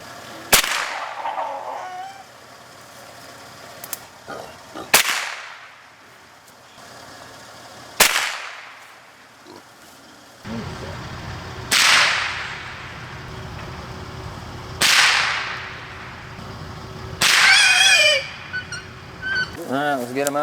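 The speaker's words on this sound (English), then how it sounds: "So now we're gonna go ahead and just dispatch them with the 22 long rifle." .22 long rifle shots crack sharply at close range, several spaced single reports while trapped hogs are dispatched, with grunting and squealing animals and occasional talk between shots.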